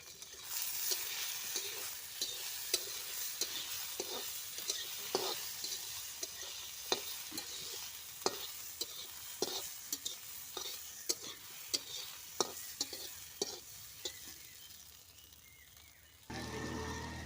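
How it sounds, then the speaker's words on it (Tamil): Potatoes frying in oil in a pan while being stirred, a continuous sizzle broken by regular scraping and tapping strokes of a spoon, ending in a louder steady hiss. "அந்த எண்ணெயிலே நான் உருளைக்கிழங்கும் சேர்த்துக்கிறேன் பாருங்கள் பொறிக்கிறதுக்காண்டி இப்போ நம்ம கிளறி மட்டும் விட்டுடலாம்"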